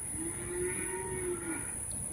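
Cattle in a pasture give one drawn-out, fairly faint moo heard from a distance, over steady outdoor background noise with a high insect-like whine.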